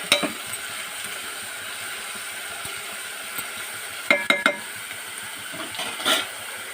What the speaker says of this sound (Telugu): మనం వేగిన ఉల్లిపాయలు మొత్తం కర్రీ అంతా కలిసేలాగా కలబెట్టుకుందాం